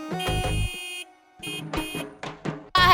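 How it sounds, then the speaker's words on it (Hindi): Vehicle horn honking from outside in a busy Indian street scene, several loud sustained blasts with short gaps, the last one starting abruptly, with no talk over them. "क्या है इतना हॉर्न काहे मारते हो?"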